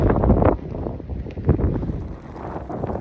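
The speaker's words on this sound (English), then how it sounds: "It's a bit windy." Wind gusting on the Everest Base Camp trek near the memorials in the Everest region, a steady broadband roar buffeting the microphone, swelling loudly at the start and again around midway, with no talking.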